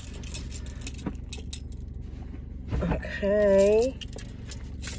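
A bunch of keys jangles at close range in a series of light, metallic chinks and rattles as a garage is being opened, while someone talks briefly and a car idles nearby.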